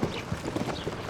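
Horse hooves in The Legend of Zelda: Tears of the Kingdom, a quick steady clip-clop of a trotting mount, close and fairly loud over a faint outdoor ambience.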